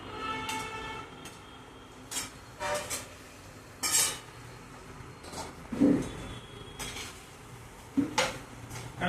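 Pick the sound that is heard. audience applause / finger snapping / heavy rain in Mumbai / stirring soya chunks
stirring soya chunks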